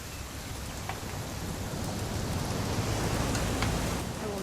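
Steady rain falls in the video game What Remains of Edith Finch, an even, continuous hiss of fairly soft, diffuse drops with no voices.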